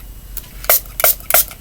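Alcohol ink sprayed onto paper for mixed-media greeting cards gives three short, sharp hissing bursts in quick succession, close and fairly loud.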